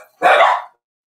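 A dog gives a single loud, close bark lasting about half a second, alone with no talk around it.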